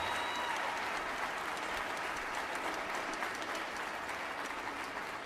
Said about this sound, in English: let's give a big round of applause for these guys